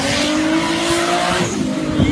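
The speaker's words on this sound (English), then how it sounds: "Now it's time to get it out on the road and see how it drives." A Toyota Supra Mark IV Super Turbo is driven on the road, its engine holding a steady, close tonal drone with tire noise and a rising note near the end.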